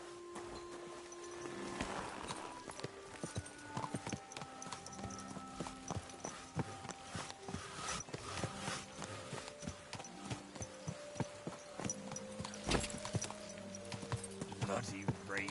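Horse hooves clip-clop at a walking pace in Kingdom Come Deliverance 2, a series of sharp, moderately close strikes with some rain-like background noise and scattered game sounds.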